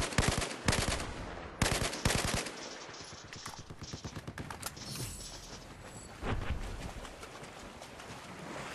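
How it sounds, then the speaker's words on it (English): Battlefield 4 gunfire during a Capture the Flag match on Caspian Border: loud, rapid automatic bursts and sharp single shots close by, repeating in clusters with mechanical clatter in between. "Oh man, you're getting shot from behind."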